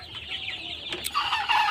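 Broiler chickens about 43 days old, some struggling with the cold, cluck and chirp close by in a loud, busy flock, with a few sharper squawks near the end.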